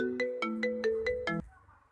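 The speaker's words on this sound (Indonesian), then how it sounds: "Aku angkat telepon bentar ya, sayang." A phone ringtone plays a bright, repeating electronic melody of six quick pulses, clear and close, then cuts off and leaves quiet room noise.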